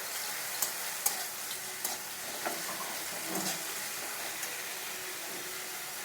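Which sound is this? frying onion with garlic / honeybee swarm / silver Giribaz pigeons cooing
frying onion with garlic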